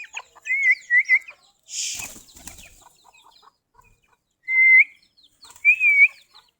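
Chickens kept beside a pigeon coop give a few short, high, squeaky clucks and calls, spaced out with quiet gaps and a brief rustle in between.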